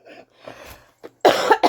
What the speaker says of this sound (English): Sorry, I don't mean to cough at you.